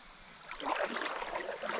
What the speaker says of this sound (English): Good clear creek.